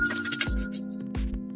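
Bell sound effect on a live stream: bright ringing chime tones repeat in quick bursts, close and fairly loud, alone without talk.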